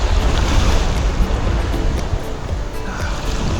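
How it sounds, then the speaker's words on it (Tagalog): Heavy surf crashes and roars continuously at a Boracay beach, close and loud, with wind buffeting the microphone throughout. "Dito malakas yung alon. Oh my God. Malakas alon dito."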